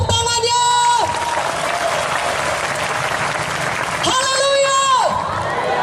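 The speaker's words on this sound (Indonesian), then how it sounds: "Mana tepuk tangannya?" Applause and cheering from a church revival congregation, loud and sustained with shouts, while tonal music plays and a voice carries over it.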